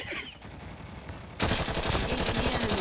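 Rapid automatic gunfire in the mobile game Call of Duty Mobile, a quieter stretch of game noise before a dense, loud burst of continuous rattling shots that keeps going to the end.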